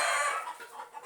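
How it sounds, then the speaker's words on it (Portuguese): Roosters kept by neighbours crow, one strained, drawn-out call heard from a little distance, fading out over about a second with no talk. "Não se incomode com o barulho ali, porque é os galos das vizinhas"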